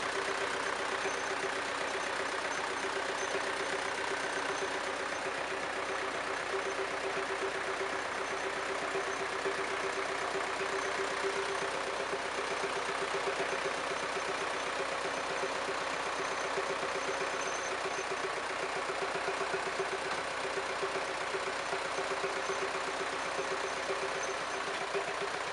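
A vintage diesel tractor engine runs steadily at idle, a continuous low, even drone with a faint hum, sustained without break and with no voices.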